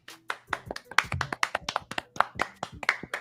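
One or two people clap nearby in a quick, uneven run of sharp hand strikes, loud and close, with a brief voice in the middle.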